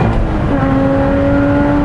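A 2017 Lotus Exige Cup 430 engine pulls hard under acceleration, a loud, sustained mechanical drone with a rising tonal whine, heard close and alone.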